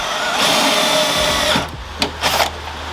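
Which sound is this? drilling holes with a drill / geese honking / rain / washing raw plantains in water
drilling holes with a drill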